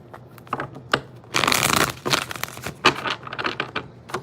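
Tarot cards shuffled by hand, a run of quick riffling and tapping bursts with one longer riffle in the middle, close and dry with no talk.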